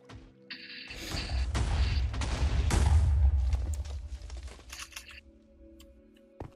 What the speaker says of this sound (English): look, more explosions.